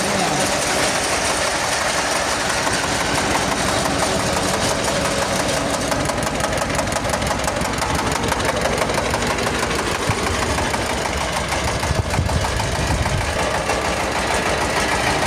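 Tractor fitted with a newly installed zatka attachment at a moto shop in Yakkabog' district, its engine idling in a steady, close mechanical chug, with voices talking over it.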